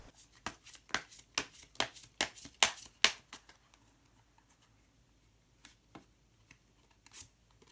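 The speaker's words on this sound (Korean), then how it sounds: "히든 카드를 한 장 더 뽑아보도록 하겠습니다." Tarot cards are shuffled and drawn by hand, giving a quick run of crisp riffling snaps and flicks, close and clear, then a few sparse card slaps after a pause.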